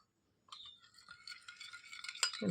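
Homemade aloe vera face cream mixture being stirred in a small container, light clinks and scraping that start after a brief silence and grow busier and louder, ending in a denser rustle.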